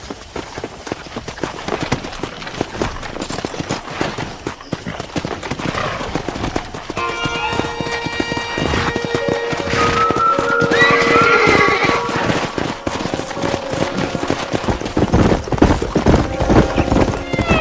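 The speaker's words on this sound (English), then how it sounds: "Let's see if we can't wrangle some horses." Horses gallop and neigh in the Red Dead Redemption video game, loud rapid hoofbeats pounding over a ranch soundtrack, with whinnies rising mid-way and gallops building toward the end; faint game voices appear briefly.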